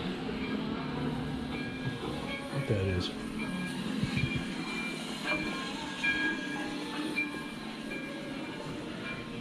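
A train rumbles along the track with steady low clatter and mechanical noise, fairly close, while a person talks briefly over it.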